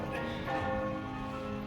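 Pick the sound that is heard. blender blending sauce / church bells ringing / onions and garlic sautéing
church bells ringing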